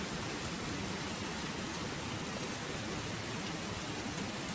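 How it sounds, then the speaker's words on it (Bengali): Heavy rain pours steadily, a dense unbroken hiss of drops on outdoor surfaces with no voices or pauses. "দেখো বাইরে শুরু হয়েছে প্রচণ্ড বৃষ্টি"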